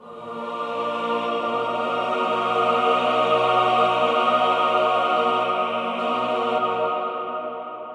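Sampled soprano and tenor choir voices sing together in a sustained, swelling chord, rising in loudness and fading near the end, with no talking over it.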